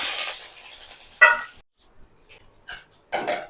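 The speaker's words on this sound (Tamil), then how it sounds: "இப்போ தாளிக்கிறதுக்கு வந்து எண்ணெய் வந்து ஒரு ஒரு ஸ்பூன் ஒன்றரை ஸ்பூன் கிட்ட ஊற்றிருக்கேன் கடுகு உளுத்தம்பருப்பு" Short bursts of hot oil crackling and popping as mustard seeds, urad dal and cumin hit the pan for tempering avial, with quiet gaps and scattered clinks between them.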